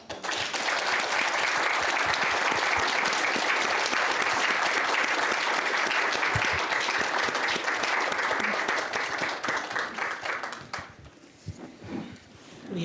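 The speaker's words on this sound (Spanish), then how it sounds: "We have to give another round of applause." An audience at a nursing award ceremony for global women's health gives sustained, dense applause that holds steady for about ten seconds before thinning out into scattered claps.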